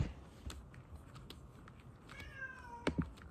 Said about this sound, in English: The cat is here.